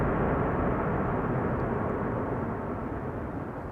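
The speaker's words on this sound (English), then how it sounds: "Reversers being used there." An airliner landing at Amsterdam Schiphol on a sunny day with thrust reversers deployed, giving a loud, steady, broadband jet roar that fades slightly toward the end, with no voices.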